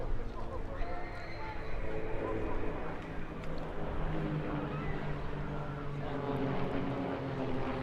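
Aircraft fly a formation aerobatics display at the English Riviera Airshow. A steady, moderately distant propeller engine drone holds throughout while a commentator talks over it.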